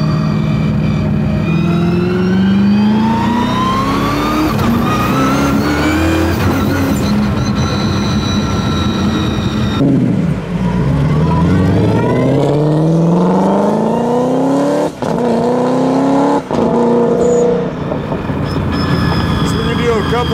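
A 1003 whp twin-turbo, supercharged Ford Mustang accelerates hard through repeated rising engine sweeps and gear changes, loud and close, with people talking over it.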